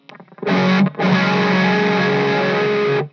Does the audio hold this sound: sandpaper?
no